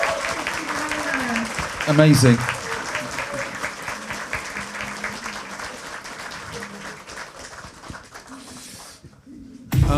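An audience at an event applauds with steady scattered clapping for several seconds, alongside a dog panting and whimpering nearby, and brief spoken words at the start.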